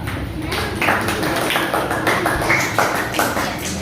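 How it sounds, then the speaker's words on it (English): Stage applause at an Independence Day celebration as a vote-of-thanks speaker is called up: steady, dense clapping from an audience, fairly close and continuous for several seconds, with a faint voice underneath. "Give a big round of applause to her."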